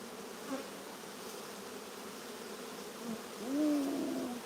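Honeybees buzz steadily around an opened hive full of larvae, a continuous close drone that swells louder near the end as more bees lift off.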